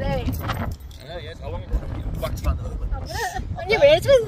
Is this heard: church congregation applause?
no